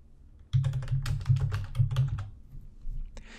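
Rapid typing on a computer keyboard, a dense run of close, crisp keystrokes that slows and thins out toward the end, with no voices.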